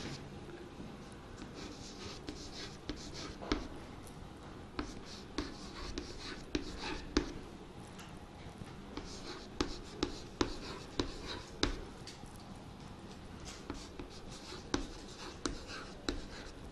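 A pen scratches numbers onto paper, with faint, close strokes and small taps in an irregular rhythm against a quiet background.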